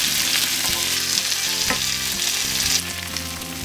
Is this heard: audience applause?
no